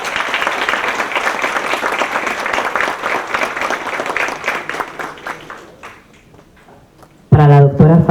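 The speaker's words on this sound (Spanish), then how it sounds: "quiero que por favor me acompañen con un fuerte aplauso" Strong applause from an audience at an awards presentation during an event on election organisation, rapid clapping that dies away over about six seconds into near silence, then a voice speaks into a microphone.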